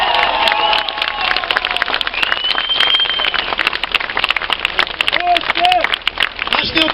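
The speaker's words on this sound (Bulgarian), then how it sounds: "Вашите аплодисменти напълно ви удовлетворяват" Audience applause at an award ceremony, dense clapping from a crowd that carries on steadily, with some talk and whistles mixed in.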